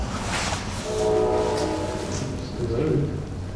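A train rumbles by near Pennhurst with a drawn-out horn blast in the middle, steady rolling noise throughout and people talking nearby in a wooded area.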